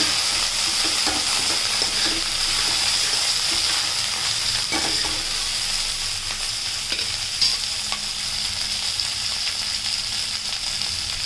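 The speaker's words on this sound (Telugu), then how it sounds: "ఇందులోకి కరివేపాకు వేసి ఈ విధంగా బాగా రోస్ట్ చేసుకుందాం" Curry leaves and onion fry in a hot pan in a village kitchen, a loud continuous sizzle with crackles and occasional stirring scrapes, close and steady throughout.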